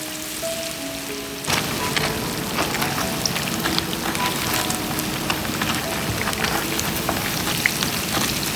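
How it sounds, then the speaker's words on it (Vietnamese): Pork-stuffed chili peppers frying in shallow oil, a loud dense crackle and sizzle that bursts in suddenly after a quiet start and keeps popping steadily up close. "Do là dầu bị cạn bớt nên là cho vào chiên mình cũng phải xoay đều luôn như thế này."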